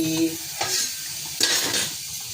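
Cauliflower poriyal simmering in a pan, with a steady sizzle underneath and two distinct bursts of scraping as a spoon stirs it. The sound is close and continuous, and no one speaks.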